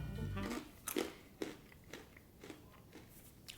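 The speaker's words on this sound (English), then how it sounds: "Mealworms are fairly easy to get your head around because they're just crunchy." Someone crunching on mealworms while trying edible insects for the first time, several close, crisp bites and chews spaced across a quiet room, with a faint hum behind.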